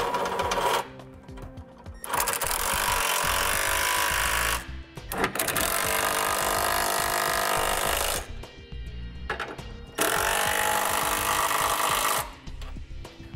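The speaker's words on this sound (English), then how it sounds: "we're gonna go ahead and tighten them down with an 11/16 socket" Trailer hitch hardware on a 2017 vehicle being tightened with an 11/16 socket, loud repeated bursts of a rattling power tool with short pauses between them, close and alone.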